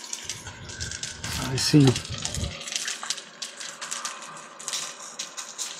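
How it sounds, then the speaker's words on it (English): Water gurgling and popping in blue sprinkler pipes as air clears from the lines, giving irregular close bubbling bursts with a brief spoken remark early on. "Hear the water popping as it's clearing the air out of the lines"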